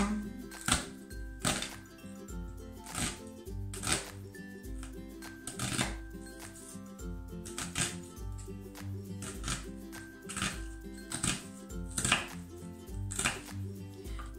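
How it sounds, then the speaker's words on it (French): A knife slicing half an onion into strips on a board: crisp chops land in a steady rhythm roughly every second, heard close over soft background music. "j'ai détaillé l'oignon en lamelles"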